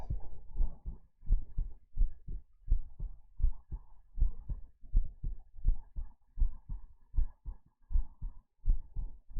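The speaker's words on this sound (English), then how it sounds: "Heartbeats to disturb your neighbors with." Loud, deep heartbeats boosted with heavy subwoofer bass thump in a steady double-beat rhythm, sounding close and throbbing, with no talking over them.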